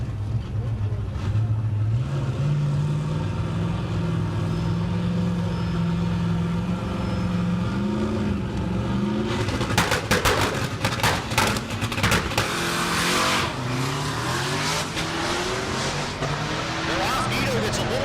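At a dragstrip race, a turbocharged 1965 Pontiac GTO with a 517-cubic-inch engine and a Silverado rumble at the line, then launch into a loud, crackling burst of engine noise. An announcer talks over the engines throughout.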